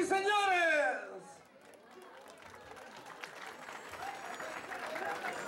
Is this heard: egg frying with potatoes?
no